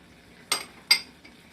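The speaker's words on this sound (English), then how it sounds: "I'm going to stir them around for about 2 minutes until the apples get real nice and sticky" Apples softened in a pan with cinnamon and vanilla get stirred by a utensil, giving two distinct clinking scrapes against the pan in a quiet kitchen, followed by a faint third tap.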